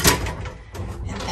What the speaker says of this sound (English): And then you have to close this door.